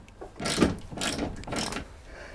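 A ratchet undoing door hinge bolts on a Rover Metro under restoration, heard as three close, rasping clicking runs, each about half a second long, with short gaps between them.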